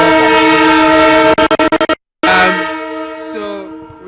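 The Tema–Accra shuttle train moves along with a loud, steady rumble and a long horn-like tonal blare, broken by a series of rapid choppy pulses and a brief dropout, then continuing with a shifting, fading horn tone.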